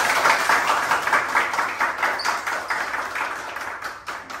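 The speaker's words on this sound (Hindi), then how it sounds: "जोरदार तालियां।" Students at an acting school clapping loudly after a staged fight demonstration, a steady close patter of hands throughout with a brief shout mixed in.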